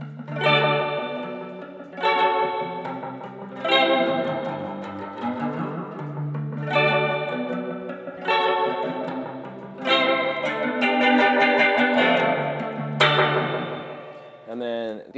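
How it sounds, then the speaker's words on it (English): Electric guitar played through a flanger pedal, repeated strummed chords with sweeping, swirling modulation and distortion, loud and close in phrases with short gaps, no talk. "this is a flanger that I love to put in a ton of bar just to make things sound fucking weird"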